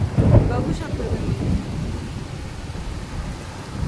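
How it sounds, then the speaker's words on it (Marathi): A thunderstorm with heavy rain at the season's first downpour: a deep thunder rumble near the start gives way to a dense, steady wash of rainfall, loud and close, with no talk. "विजा कडकडत आहेत, पाऊस पडतोय"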